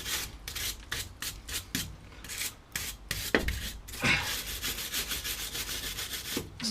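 A wire brush scrubs the front brake parts of a Citroen C4 Grand Picasso in quick, rhythmic rasping strokes, close and fairly quiet, pausing briefly before a steadier stretch of scrubbing.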